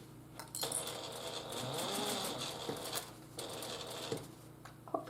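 A sewing machine stitches a fabric pouch in quick, rattling bursts, running steadily for a few seconds with brief pauses and small clicks between runs, close and fairly quiet.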